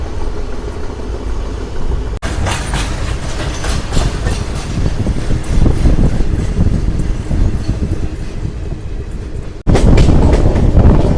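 Secunderabad to Villupuram special passenger train running near Ongole, heard from on board as a loud continuous rumble with rhythmic clickety-clack of wheels over rail joints and two abrupt shifts in tone, no voices.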